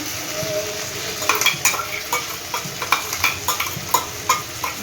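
A cashew, melon seed and poppy seed paste fries in a pan with capsicum for a green jackfruit kofta curry. It gives a steady close sizzle broken by repeated sharp spatula scrapes and taps.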